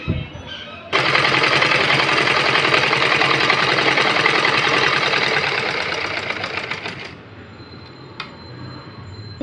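A sewing machine stitches blouse fabric in one loud, steady run of rapid mechanical clatter lasting several seconds, then stops abruptly, leaving faint handling noises behind.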